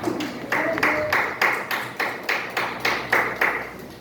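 A church congregation claps together in a steady rhythm of roughly nine or ten loud bursts about every half second, with a faint voice or tone briefly underneath.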